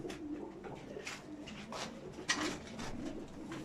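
Soft, low cooing from a çakmaklı female pigeon nesting with a single chick, quiet and near, with faint rustling and intermittent brief higher chirps from other birds in the loft.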